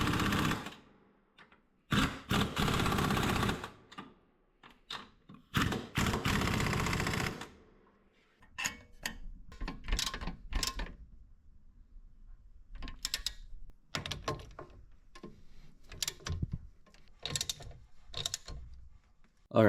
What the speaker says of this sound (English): Now torque everything down.